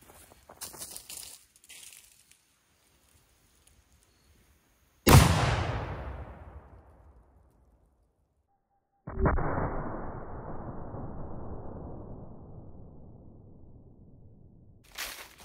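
A cannon fires a 3D-printed plastic cannonball at a watermelon: a sharp, loud boom with a long decaying rumble, followed by a second heavy blast trailing off, with quiet handling noises before.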